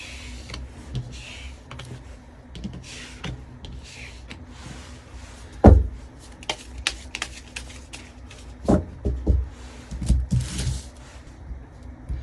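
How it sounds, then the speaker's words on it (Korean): Tarot cards being shuffled and drawn for a reading make a run of quiet flicks and soft taps. A few sharper slaps and riffles come in bursts toward the end, with no talk. "그럼 추가적인 카드를 통해 이 시점에서 상대와 우리 3번 분들에게 필요한 관계에 대한 조언 카드를 뽑아보도록 할게요."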